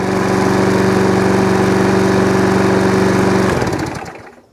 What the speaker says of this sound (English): that's the Hayter Harrier 41, now all up, done and running